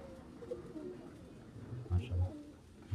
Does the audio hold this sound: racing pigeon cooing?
yes